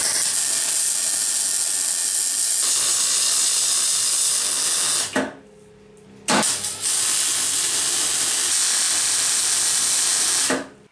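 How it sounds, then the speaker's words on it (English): Welding a bolt onto a crane lifting device produces a loud, steady broadband hiss and crackle. It breaks off for about a second in the middle, then runs on again. "Let's weld the rest in place."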